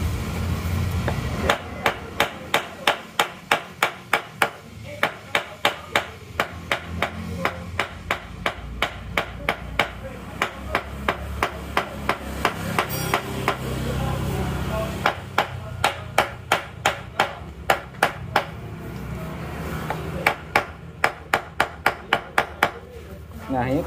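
Sharp metal hammer blows tapping a car cylinder liner against a wooden block, leaking compression in a Panther engine, arriving in fast rhythmic bursts of closely spaced strikes separated by short pauses, loud and near.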